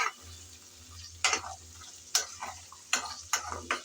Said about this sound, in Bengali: আমি মাছের তেল ভাজা তেলেই আলুগুলো বেজে নিচ্ছি